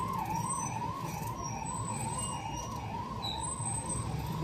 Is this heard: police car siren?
yes